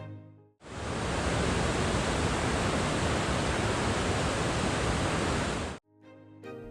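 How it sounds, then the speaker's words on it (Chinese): Dettifoss waterfall in Iceland, heavy with grey glacial silt, roars in a loud, unbroken wall of noise with strong wind gusting against it, close and overwhelming from start to end. "狂风和水声淹没了所有杂音"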